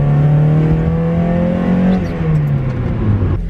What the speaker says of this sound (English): Thomas and Michael are gonna run him right now.